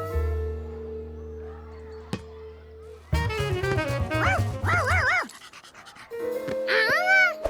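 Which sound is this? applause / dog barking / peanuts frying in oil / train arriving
dog barking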